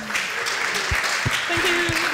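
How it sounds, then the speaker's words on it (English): Audience applause at a Sunday evening livestream event, a short burst of clapping filling the room with scattered louder claps, under faint talk. "Give him a round of applause, please."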